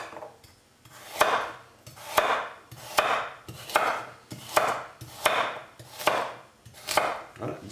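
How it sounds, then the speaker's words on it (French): Peeled carrots being chopped into large chunks on a board, a steady series of firm knife thuds at a regular rhythm of about one per second, close and clear with no voices. "On vient les couper en gros."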